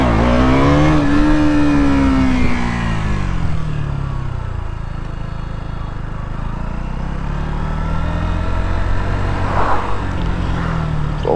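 A KTM Duke motorcycle engine roars loud and close while riding, revving high and then dropping into a sustained steady drone for several seconds.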